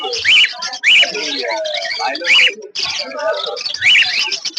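Cockatiels, albino red-eye birds, chirp and whistle repeatedly at a busy bird market in Uluberia, their bright calls rising in bursts over a steady murmur of nearby chatter.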